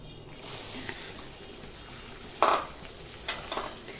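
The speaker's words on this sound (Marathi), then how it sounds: "हे झाल्यानंतर हा कांदा याच्यामध्ये परतवायचा." Chopped onion is sautéed in a pan for Khandeshi-style brinjal bharit, giving a soft continuous sizzle with a few sharp scrapes and clinks of a spoon stirring against the pan.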